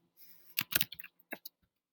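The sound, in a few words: typing on a computer keyboard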